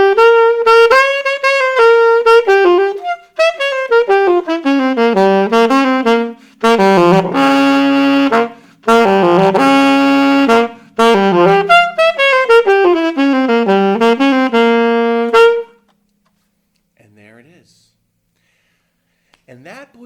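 A saxophone plays a jazzy phrase of quick, bending notes with short pauses for about fifteen seconds, loud and close, then stops and leaves near silence with a few faint sounds.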